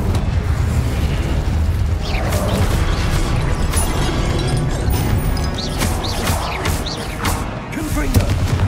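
An Incendio fire spell cast repeatedly in the Hogwarts Legacy video game, mixed with other spell effects: loud, dense bursts of fiery whooshes and booming impacts over a constant thick rumble of game sound, with no speech.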